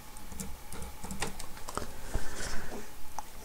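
Typing on a computer keyboard in a quiet room, a brief burst of light irregular key clicks at close range with no voices.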